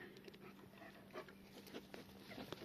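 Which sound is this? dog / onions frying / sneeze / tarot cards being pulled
dog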